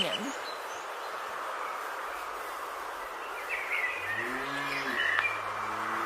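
A cartoon cow gives a short, low moo near the end, set over a steady bed of background ambience on a farm.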